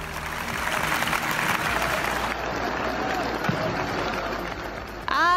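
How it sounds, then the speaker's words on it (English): Football fans in the stands make a broad, sustained crowd roar of cheering and chanting, heard at a moderate distance, with a brief whistle near the end. "Fans back in the stands again, cheering, singing, and of course booing."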